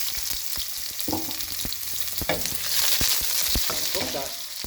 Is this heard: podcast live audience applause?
no